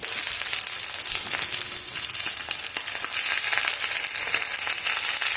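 Chicken cutlets topped with Parmesan fry in a hot pan while they are flipped, giving a loud, dense, constant sizzle with crackling and scraping close by and no talk.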